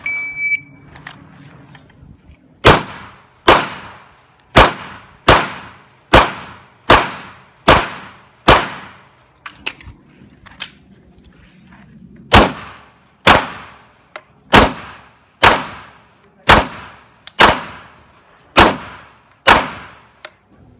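Paintball markers fired at a shooting range, a rapid series of loud, sharp cracking shots in two bursts with a short pause between, close and dominant, with quiet background between the volleys.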